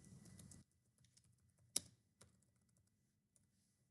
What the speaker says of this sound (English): Let me type something over here.